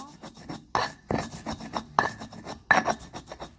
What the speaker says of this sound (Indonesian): kita haluskan ketumbarnya dulu ya sampai halus, baru masuk bawang merah, bawang putih, dan serai